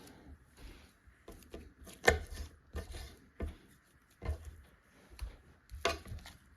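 A knife dices deer meat on a board during home butchery, producing a series of irregular, fairly quiet chopping knocks spaced about a second apart, with no one speaking.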